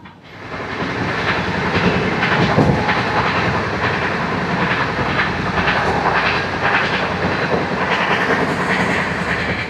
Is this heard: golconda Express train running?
yes